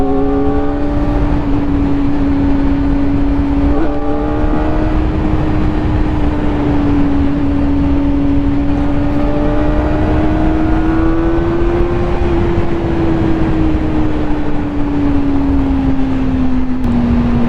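A Kawasaki ZX4RR sports motorcycle with its stock exhaust holds a steady, high-revving engine note that climbs gradually and then eases back, loud and continuous with no talking.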